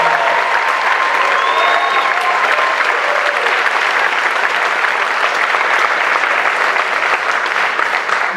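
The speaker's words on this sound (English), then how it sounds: "I do want to have one more round of applause." An audience at a high school senior awards night applauds steadily, dense and sustained clapping from a large crowd filling the whole stretch, loud and even with no pause.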